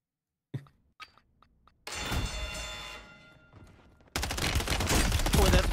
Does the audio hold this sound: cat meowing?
no